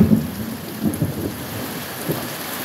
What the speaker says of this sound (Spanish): Está lloviendo muy bonito.